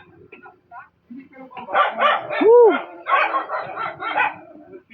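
Many dogs at a place said to hold more than twenty of them, barking in repeated bursts at close to moderate range, mixed with people talking and a brief exclamation.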